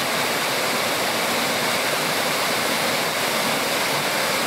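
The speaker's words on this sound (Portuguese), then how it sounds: "Ali fica a queda d'água, né?" A waterfall roars steadily at close range, a dense continuous rush of falling water with no pauses and no voices.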